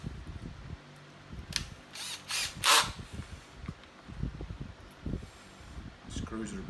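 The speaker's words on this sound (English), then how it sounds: "Ooh, I could drill a little bit deeper" Cordless drill driving long screws into a wooden crosscut sled for a DeWALT table saw, a few short whirring bursts with ratcheting clutch clicks, close up, mixed with speech and handling noise.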